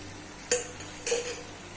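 Boiled vegetable noodles are stir-fried in a pan, with two short scraping, sizzling stirs a moment apart over a faint steady background, close and moderately quiet.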